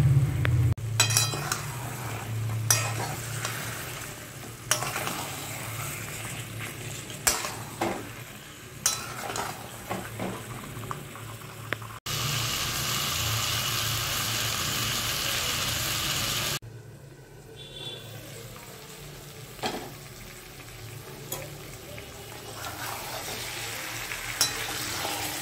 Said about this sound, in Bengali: ভালো করে আমরা মশলাগুলোকে কষব।